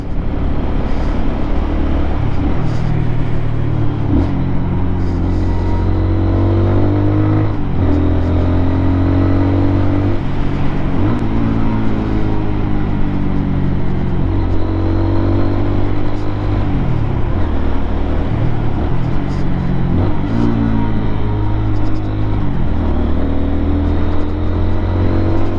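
A brand-new Lifan KPM 200, a six-speed motorcycle engine, runs continuously on its first break-in ride, loud and near, with its pitch rising and falling as it repeatedly revs up and shifts through the gears.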